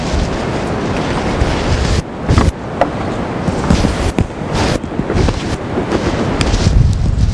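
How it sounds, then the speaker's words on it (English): Strong wind buffets an outdoor microphone on a cloudy day near a fence, a loud continuous roar with gusty surges and brief dips throughout. "it's been a cloudy, windy day"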